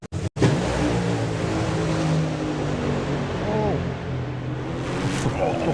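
A drag racing car launches hard off the start line at a Festival of Power drag meet, a loud, sustained, close engine roar that fills the whole stretch after a brief sharp onset.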